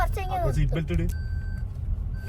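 A car's seat belt warning alarm sounds as a steady electronic tone that cuts on and off. Talk and cabin rumble come before it.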